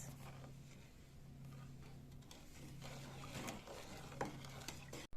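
Sugar syrup made from sugar, water and a quarter lemon is stirred in a pot, producing soft, close scraping and swirling with light clinks over a steady low hum, with no talking.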